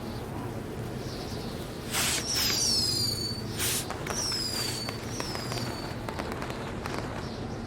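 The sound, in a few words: fireworks exploding in video game WWE 2020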